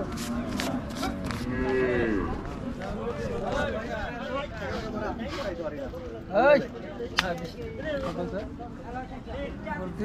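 Cattle at a busy livestock market low repeatedly, several moos rising over the constant din of people bargaining and chattering nearby.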